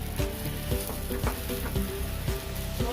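Food frying in a small amount of oil for a semolina dhokla recipe, a steady close sizzle with crackling pops and occasional stirring clinks, no voices.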